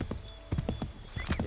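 Horse hooves in Assassin's Creed III clip-clop in a steady, close, loud rhythm of repeated beats, heard alone without speech.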